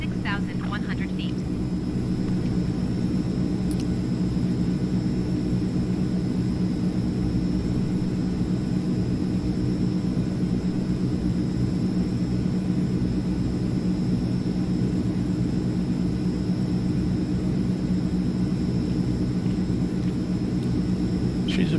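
Steady, loud cockpit drone of an AzurPoly C 160 light aircraft in Microsoft Flight Simulator, an even engine and airflow rumble running unbroken for the whole stretch with a faint high whine above it.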